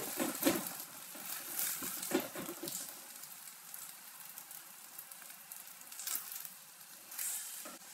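Eggs fry in a generous amount of hot oil for a stir-fried egg and tomato dish, giving a steady close sizzle with soft crackling bursts and no talking.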